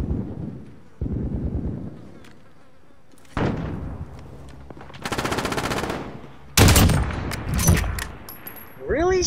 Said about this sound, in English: Shotguns against my range? That's damn stupid.